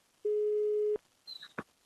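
A phone line gives a single steady busy tone lasting under a second, followed by faint clicks and brief noises, quiet and close to the earpiece.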